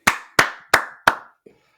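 Four sharp, evenly spaced hand claps ring out close and loud, each with a short decay, followed by a fainter fifth tap, with no talking over them.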